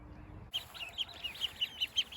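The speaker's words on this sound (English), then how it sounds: "This is 2 roosters, and they are prairie belle." Two Prairie Bluebell roosters cluck in a regular series of short, soft calls, nearby but fairly quiet, rising slightly in loudness over a couple of seconds.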